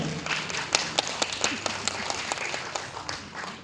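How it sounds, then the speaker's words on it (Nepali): Audience applause at the Kalimpong district book fair ceremony, a sustained crowd of hands clapping with sharp individual claps standing out over a few seconds. "तालीको निम्ति धन्यवाद छ यहाँलाई"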